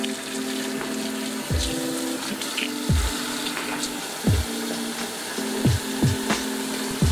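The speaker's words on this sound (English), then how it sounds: "I'm gonna go ahead and stick these in the sink under some warm water" Warm water runs from a kitchen sink tap over frozen beef to thaw it, a steady faucet stream with several hollow knocks and clunks recurring at intervals; no one speaks.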